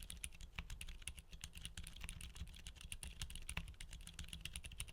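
Typing on a mechanical keyboard fitted with Gazzew U4 tactile switches gives a rapid, irregular stream of close, muted clacks and thocks over a low hum, with no voices.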